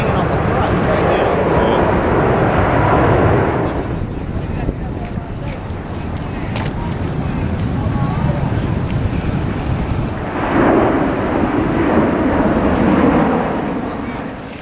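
Airbus A380 jet engines roaring continuously during a slow, nose-high airshow flyby at AirVenture 2009, a broad steady rumble mixed with wind noise, swelling louder near the start and again toward the end, with people talking nearby.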